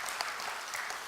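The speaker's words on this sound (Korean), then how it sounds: "박수를 하나님 앞에 한번 영광 돌리세요" A church congregation at a Korean revival meeting claps together, a soft, even wash of many hands that sounds fairly distant and carries on without a break.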